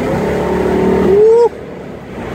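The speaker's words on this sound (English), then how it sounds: "You can hear the motor." A 1995 Mustang GT with a 5-liter engine runs in a steady close rumble, with a short rising whine over it that cuts off abruptly partway through.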